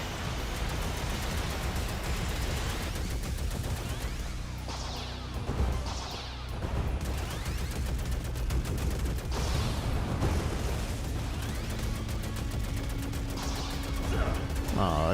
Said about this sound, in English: I thought that thing would block the explosion